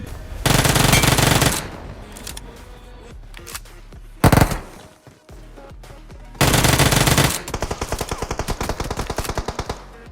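Automatic gunfire in BGMI fusion mode erupts in loud bursts: a sustained burst, a single sharp blast, then another long burst followed by a run of rapid individual shots.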